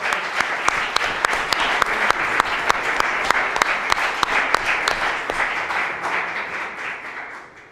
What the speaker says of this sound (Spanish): Le agradecemos también con un fuerte y caluroso aplauso.